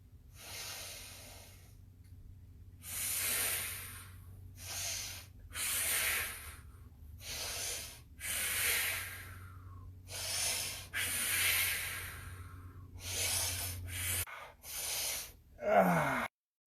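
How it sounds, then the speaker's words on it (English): Forceful breaths drawn in through the nose during exercise, a series of loud sniffing inhales and exhales in a steady rhythm, close and alone over a low hum. "Try to breathe in through your nose. Always, always, always through your nose."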